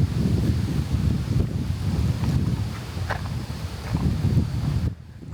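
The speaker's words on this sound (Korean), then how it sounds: "바람에 흩날리는 나뭇잎 소리 잘 들리시나요?" On a hiking trail, wind sweeps steadily through the leaves in a continuous breathy rustle with some gusty buffeting close to the microphone, then drops off abruptly at the end.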